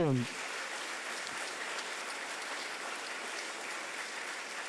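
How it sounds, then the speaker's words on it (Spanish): Sustained applause from a crowd, a dense even wash of clapping that carries steadily without pause. "damos fuerte aplauso"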